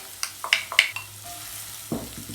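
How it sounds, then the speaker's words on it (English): Onions and garlic sizzle in a hot pot, a steady frying hiss broken by a few sharp metallic clinks of a utensil stirring. "you can hear that sizzle sound"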